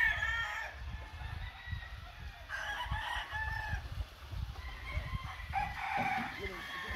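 Yellow-legged Gary Gillian line roosters crow in repeated drawn-out calls amid clucking fowl, with someone talking steadily over them throughout.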